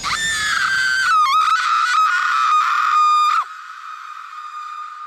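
Sakura, a young female character in the Naruto anime, lets out one long, loud, high-pitched scream up close. It lasts about three seconds and then drops to a fainter sustained tone.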